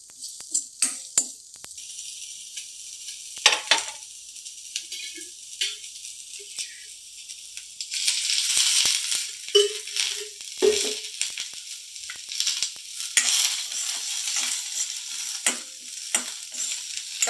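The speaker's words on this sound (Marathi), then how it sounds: "कांदा आणि खोबरं परतून घेऊया." Onion and coconut sauté in a pan for a chhole gravy, with soft sizzling and scattered spoon scrapes and clinks against the pan, close and moderately quiet, and no one speaks.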